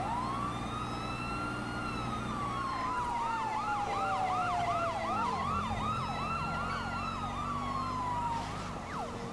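An ambulance siren in a video game, a loud wailing sweep that shifts into a rapid yelping pattern and back, steady and prominent over a low engine hum.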